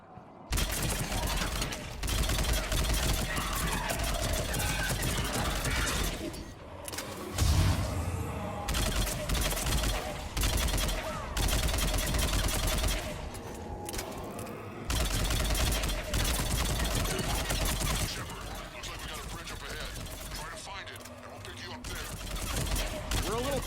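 Sustained gunfire in a Mass Effect 3 shootout on Tuchanka, dense overlapping automatic shots and blasts running almost without pause, loud and close, with voices talking over the battle.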